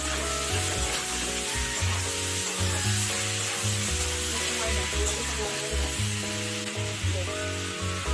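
Pre-fried ash gourd is added to a hot pan with shrimp, giving a loud continuous sizzle with stirring up close. A low steady hum runs underneath.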